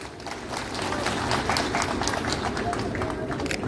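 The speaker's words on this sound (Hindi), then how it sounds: "आप सभी पेमा खांडू जी के लिए जोरदार ताली बजाएं" Audience applause at the Nyokum Yullo celebration in Arunachal, a dense, steady patter of clapping that swells after the first second and holds, with a voice speaking over it.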